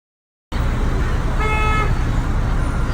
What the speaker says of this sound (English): The traffic is so crazy.